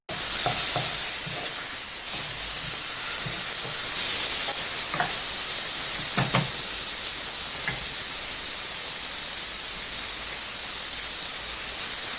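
Chicken pieces searing in a pan with browned onions, a steady loud sizzle throughout with occasional stirring clatters and scrapes, no talking.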